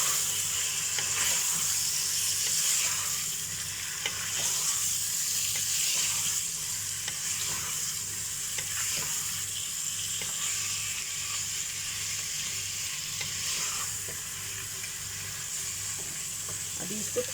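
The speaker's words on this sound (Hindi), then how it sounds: "अब ये प्याज के साथ ये पूरा भुनाई होगा" Chopped onions frying with mutton pieces in a pan for a whole-spice mutton stew, a steady close sizzle with faint stirring scrapes running unbroken throughout.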